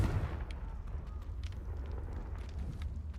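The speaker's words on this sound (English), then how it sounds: "Ah, fire. Confringo." A Confringo fire spell in Hogwarts Legacy sends out a deep, rumbling blast that settles into a steady roar of crackling fire. A few sharp snaps cut through it, close and moderately loud, with no voice.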